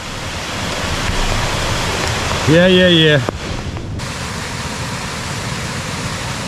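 Heavy rain pouring down in a forest on a Forest Service road in north Georgia, a steady dense hiss throughout, briefly broken by a short voice and a knock partway through.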